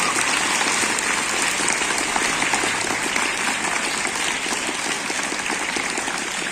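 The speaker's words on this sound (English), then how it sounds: "Can you clap harder than this or no?" Schoolchildren at a Teachers' Day celebration clap hard and fast, a dense, even roar of many small hands that keeps going at a constant loud level throughout, almost like heavy rain.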